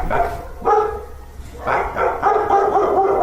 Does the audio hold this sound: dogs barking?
yes